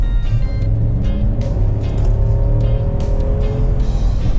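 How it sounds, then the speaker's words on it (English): A Range Rover Sport HSE, an older big, heavy SUV, accelerating hard under full throttle, its engine roaring steadily and loudly throughout with a rising drone and no talk over it. "Let's go ahead and hit the gas down and see how the acceleration feels again."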